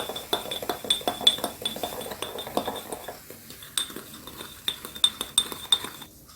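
A metal spoon clinks repeatedly against a glass bowl, stirring baking soda and vinegar for kefir pie batter in an uneven rhythm, close and moderately loud, with no voices.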